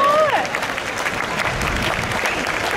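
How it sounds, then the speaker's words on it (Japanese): Crowd applause at a baseball stadium after a ceremonial first pitch at a Niigata special day game, broad clapping and cheering, with a voice briefly heard over it at the start. "皆さん今一度大きな拍手をお送りください。"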